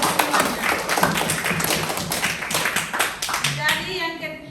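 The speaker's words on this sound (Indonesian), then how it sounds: "Kita berikan tepuk tangan dulu untuk ketiga kelompok." A class applauds student groups after their presentations, a dense run of hand clapping from many people in a classroom, steady for several seconds and tapering near the end, with some voices mixed in.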